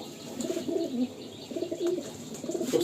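Andhra pigeons coo in low, rolling phrases, several repeated calls close by with faint chirps above, no voices.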